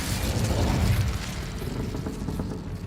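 A fire spell cast in Hogwarts Legacy, heard as a loud, dense whooshing burst with booming low rumble that swells in the first second, then settles into a steady, crackling roar for the rest.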